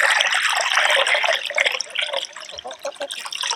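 Fresh water is poured into a bowl for backyard chickens, a loud continuous splashing and gurgling stream that runs close up throughout and eases slightly toward the end.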